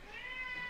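A female cat lets out one drawn-out meow, close and clear, with a slightly wavering pitch and a small upturn at the very end.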